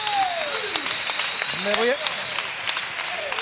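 Audience applause and cheering at a carnival final, with broadband clapping filling the clip while a voice speaks over it in the foreground.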